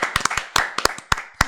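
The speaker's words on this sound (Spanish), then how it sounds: "así que nuevamente un aplauso, por favor" A few people clap for a school director in short, separate bursts, about a dozen sharp claps close by and alone, with no talking.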